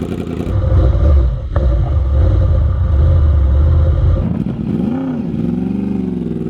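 A Yamaha R1 sport motorcycle engine revs loudly and close up, sustained high-rpm roar dipping briefly, then rising again with a sweeping rev and settling into a throbbing idle.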